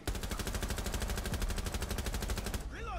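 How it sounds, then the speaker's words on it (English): Rapid, sustained automatic gunfire from a shooter video game, a dense loud stream of shots running nearly the whole time before breaking off into other game effects at the end. "they're shooting towards us"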